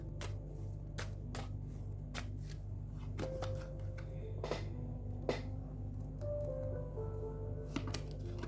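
Cards are shuffled and handled, giving faint, repeated papery riffles and flicks over a low steady electrical hum.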